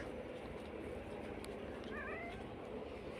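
A faint cat meow rises briefly near the middle, a thin wavering cry over steady background noise, at feeding time on an animal farm.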